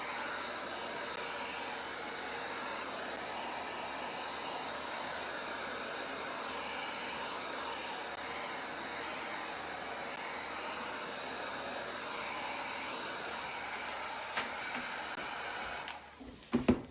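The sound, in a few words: heat gun drying paint on a DIY wood sign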